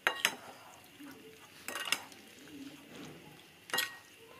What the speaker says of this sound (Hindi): और इसको अब अच्छे से कर लेंगे मिक्स।